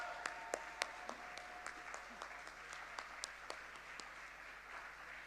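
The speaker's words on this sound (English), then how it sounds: "A round of applause." Scattered audience applause at a conference on cyber capacity building, a few sharp individual claps standing out near the microphone over a soft, thin patter from the room; a faint steady hum runs underneath.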